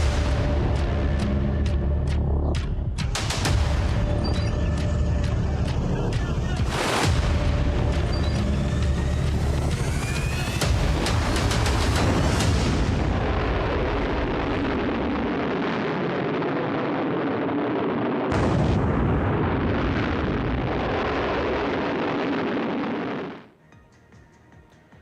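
Missile explosions in the Israel-Iran war: heavy rumbling roars mixed with sharp cracking blasts and booms. The dense, loud barrage carries on for over twenty seconds before dropping away abruptly near the end.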